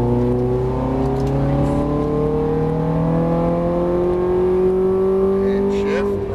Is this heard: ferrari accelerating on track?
yes